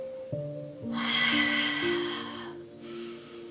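A strong exhaled breath during a Pilates breathing exercise, a sustained airy rush lasting about a second and a half over steady background music, followed by a softer second breath.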